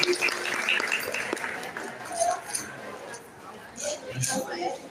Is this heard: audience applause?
yes